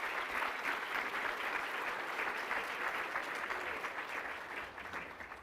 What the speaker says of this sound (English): round of applause for yourselves one more time